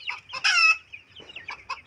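Chickens, including young chicks, give a quick series of close, sharp clucks and squawks, one louder harsh call in the middle followed by softer short clucks.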